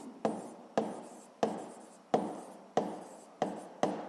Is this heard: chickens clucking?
no